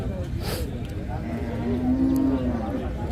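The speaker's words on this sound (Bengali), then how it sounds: "গাবি বাছুর আছে সাথে" A cow with her calf at a rural cattle market moos in one long, loud, drawn-out call over steady crowd murmur and market noise.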